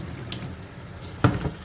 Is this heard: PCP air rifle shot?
no